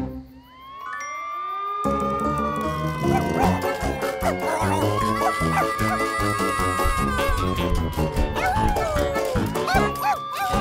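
A cartoon character imitates a dog by voice, giving a run of yappy barks, whines and howls over bright musical dings.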